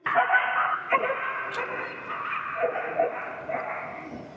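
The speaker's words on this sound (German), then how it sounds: "du hörst es bellen, du hörst es knurren" Several dogs barking and yipping at a distance over a busy indoor murmur of crowd noise in the Tokyo RV Show exhibition hall, with a few sharper yelps standing out.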